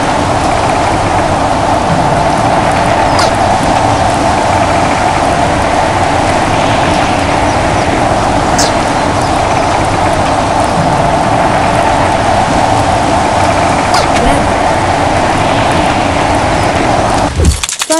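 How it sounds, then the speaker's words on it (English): A thunderstorm with steady heavy rain roars loudly and evenly throughout, with brief cracks of thunder or lightning-like bursts standing out here and there before a sudden cutoff at the end. "Thunderstorms are electrical storms with thunder, lightning, and heavy rain."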